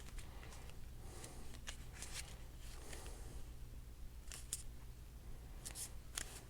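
Scissors trimming scalloped paper around a paper clip in a craft project: several short snips close by, some grouped in quick pairs, over quiet rustling of paper.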